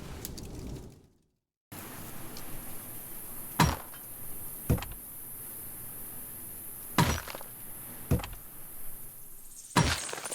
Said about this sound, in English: Be a good lad and chop some firewood.